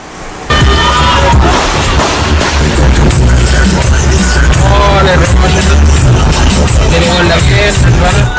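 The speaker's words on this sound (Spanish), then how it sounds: "un carabinero dispara en 2 ocasiones intentando detener a un malabarista callejero" A police officer firing shots during a street confrontation with a juggler in a town centre, a sharp bang heard amid loud, chaotic crowd noise and shouting that run continuously at close range.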